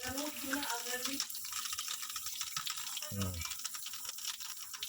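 Tap water runs over ginger as it is washed for an agarwood tea, a faint, close stream with brief clatter. A voice speaks in the background.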